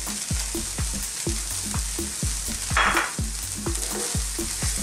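Shredded cabbage for chicken spring rolls sizzles in a pan with carrots as a utensil stirs and scrapes in a steady rhythm, loud and close, with no talking.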